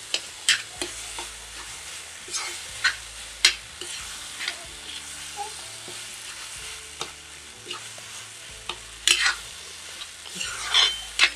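Roasted brinjal bharit being stirred and sautéed in a pan, with soft sizzling underneath and a series of scraping spatula strokes and clinks, close and moderately loud, no talking.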